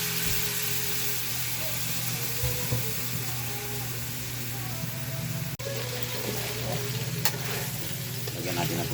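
Vinegar poured into a hot pan of adobo, a continuous loud sizzle and bubbling hiss with a faint hum underneath and a brief clatter midway.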